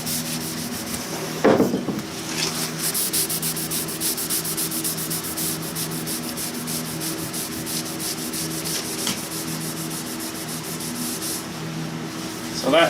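A pipe being cleaned and rubbed in a fabrication shop, a steady, loud scrubbing that runs continuously with fast repeated strokes and a brief knock near the start.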